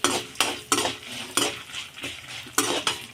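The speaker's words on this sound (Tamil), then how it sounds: "அதுக்கப்புறம் வெந்தயம் எடுத்துக்கலாம். அதுக்கப்புறமா மிளகு எடுத்துக்கலாம். சீரகம் எடுத்துக்கலாம். நல்லா பொன்னிறமா வறுத்து எடுத்துக்கணும்" Fenugreek seeds, black pepper and cumin dry-roasting in a pan for pirandai thokku, with a spatula scraping and stirring in repeated sharp strokes about every half second over a soft crackle, close and fairly loud.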